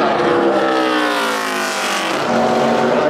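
Labonte's Dodge racing truck screams around Phoenix on a qualifying lap in the Camping World Truck Series, loud engine whine rising and shifting in pitch as it passes, alone without voices.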